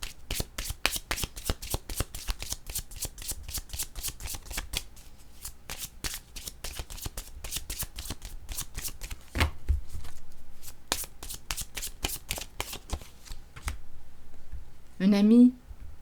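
A deck of cards is shuffled by hand in a rapid series of crisp riffling snaps and flicks, close and clear, with a short burst of voice near the end.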